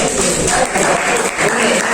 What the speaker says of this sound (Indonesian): tepuk tangan untuk Ose.